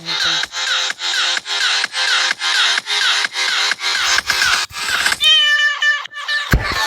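Repeated cat meows from a video game, about a dozen evenly spaced calls in a steady loud rhythm, followed by a brighter chime-like tone and a brief low thump at the end; no talking.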